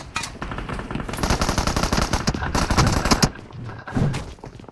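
Video game gunfire crackles in dense automatic bursts. The rapid shots are loud and close, with short pauses between them and a few heavier thumps near the end.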